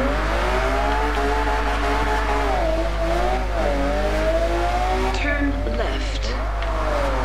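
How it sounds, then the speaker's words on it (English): Enzo Ferrari drifting on a wet road in the racing game Forza Horizon 2, a steady loud engine drone whose pitch swings up and down with revs, with tyre hiss near the end and a voice talking over it. "we've got to do drifting in an Enzo Ferrari in the rain"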